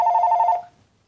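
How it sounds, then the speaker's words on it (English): A telephone bell rings loudly and close for about half a second in a quick repeating trill, then cuts off into near silence. "So I apologize for the phone ringing"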